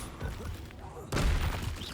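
The Confringo blasting spell in the video game Hogwarts Legacy: after a stretch of talking, a sudden loud burst erupts and rumbles on briefly beneath the fight.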